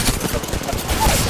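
Rapid gunfire in an Apex Legends Arenas match, a brief dense burst of automatic shots, loud and close, with a faint voice under it.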